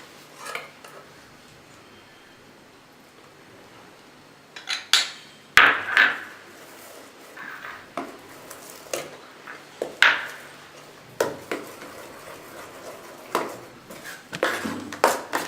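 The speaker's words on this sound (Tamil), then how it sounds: "இந்த மாதிரி நல்லா மிக்ஸ் பண்ணிக்கோங்க மாவில்" Mango paste being stirred into dosa batter in a bowl, with irregular clinks and scrapes of a utensil against the bowl, close and moderately loud, in scattered bursts.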